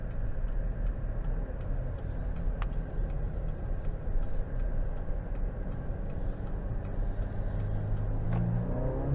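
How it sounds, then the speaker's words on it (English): Cabin-heard 2022 Cadillac XT5 Premium Luxury 2.0T AWD running in sport mode with paddle-shifted gear changes: a steady, close engine drone and road rumble fill the whole stretch with no talk. "I'm pretty impressed overall with how quick the downshifts and upshifts are."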